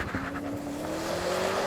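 BMW M5 launching off the line, its engine note climbing steadily as the car accelerates away, with a faint tire squeal along the way, loud and close, and no voices.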